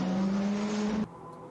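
A loud, steady race car engine roar from a Ford GT40 MK4 holds one droning pitch for about a second, then cuts off sharply, leaving quieter background noise.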